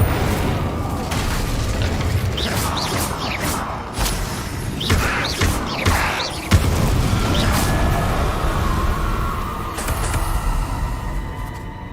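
Incendio and Confringo spells cast in Hogwarts Legacy: repeated booming blasts and fiery thuds burst over a busy game soundscape, with one heavy impact standing out midway.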